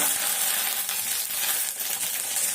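Steady crackling sizzle of fish frying in hot oil with curry leaves, dense and continuous throughout, close by with no voices.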